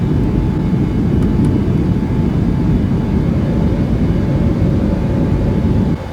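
An Alaska Airlines Boeing 737 climbs after takeoff in Microsoft Flight Simulator, its engines a loud, steady low roar throughout with no talk.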